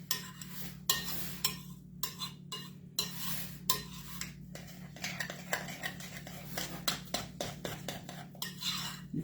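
Batter for a Hershey chocolate cake being stirred by hand in a bowl, with a spoon scraping and clinking in a steady, quick rhythm of sharp scrapes and taps, close and continuous with no talking.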